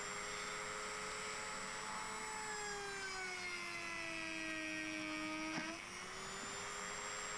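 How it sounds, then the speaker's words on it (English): A Dremel rotary tool drilling holes into a turned wooden lampshade makes a high, close whine whose pitch slowly sags under load and then drops sharply as the bit bites in. "which is drilling a gazillion holes in the outside"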